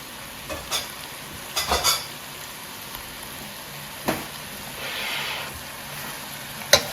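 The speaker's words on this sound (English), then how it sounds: "And we just want to get these all mixed in together" Brussels sprouts tossed with sauce in a hot pan, a continuous soft sizzle broken by several scraping stirs and a few clanks of a utensil on the pan.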